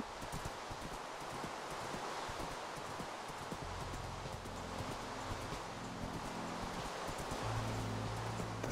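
Horse hooves during riding in the video game Minecraft, a soft, steady clip-clop with a rustling, windy bed beneath it, fairly faint and continuous, with no talk.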